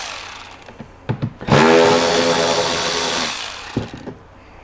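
A power driver whirs for about two seconds, backing a screw out of an Advanblack 8-inch speaker lid, with short clicks and handling noises before and after.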